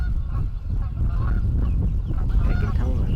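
Geese honk repeatedly as a small group flies in off the roost in the Wisconsin countryside, scattered calls layered over steady low wind and field noise.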